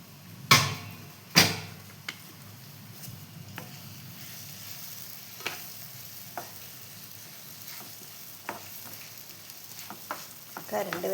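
Banana pieces sautéing in ghee in a pan give a low, steady sizzle, broken by a few sharp clatters of a utensil against the pan and occasional scraping stirs.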